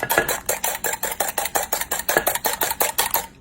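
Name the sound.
whisking eggs into a foam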